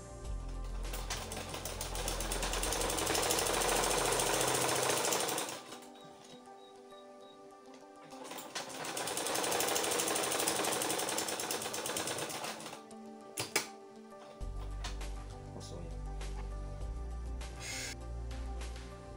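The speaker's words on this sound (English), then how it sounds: "Now let's start with the sewing." A sewing machine stitches a trouser front pocket in two sustained whirring runs with a pause between, then a shorter burst of stitching near the end, close and steady.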